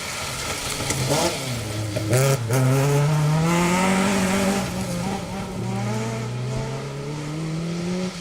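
A 2-litre Mark II Escort and a Subaru Impreza rally car race a stage of the Cambrian Rally. Loud engines rev and climb in pitch nearby, with a brief tyre scrabble and no voices.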